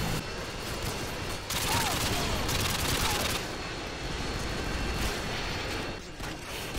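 Rapid automatic gunfire bursts from Call of Duty: Modern Warfare 2 on Xbox, dense and loud over continuous game action, with a person talking over the battle.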